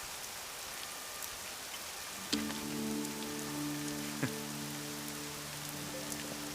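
Steady rain patters on a surface throughout, soft and constant, while a tonal hum joins partway through alongside occasional louder drip taps.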